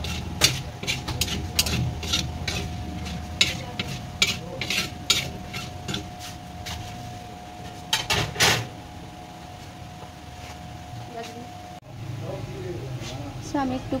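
Whole cumin and coriander seeds stirred in a frying pan, with repeated scraping and clicking stir strokes over a low continuous sizzle, close and moderately loud, with no talk.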